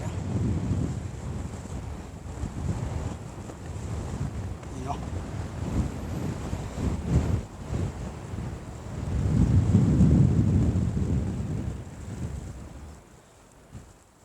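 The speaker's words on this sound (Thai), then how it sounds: "จะเป็นหน้าผา ลมแรงด้วยตรงนี้" Strong wind buffets the microphone at a cliff edge in the middle of the Mekong River, a continuous roaring rumble that swells loudest near the end before easing, with no talk over it.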